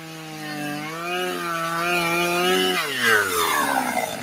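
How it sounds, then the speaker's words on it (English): A chainsaw runs steadily as a radio ad sound effect, its engine whine holding pitch and then revving up sharply near the end, loud and alone with no talk. "Use a chainsaw by Burl for all your ball stepping needs."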